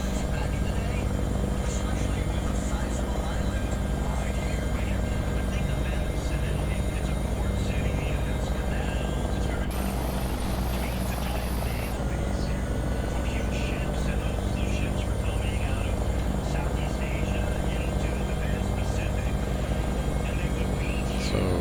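A Bell helicopter in the X-Plane 11 flight simulator spooling up for takeoff, a loud continuous rotor and engine drone throughout, with a brief higher whine partway through and a voice speaking over it.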